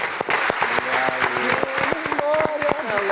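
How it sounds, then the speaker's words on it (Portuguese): A television studio audience applauds with loud, sharp claps over lingering music, sung or played notes ringing through as voices call out near the clapping. "Mais palmas!"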